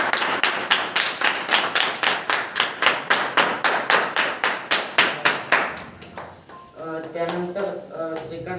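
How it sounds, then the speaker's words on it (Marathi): Audience clapping in rhythmic unison to welcome guests at a religious birth-anniversary celebration, a steady run of loud, evenly spaced claps for about six seconds that then stops, followed by a sustained musical tone. "सर्वांनी त्यांचे टाळ्या वाजून स्वागत करा."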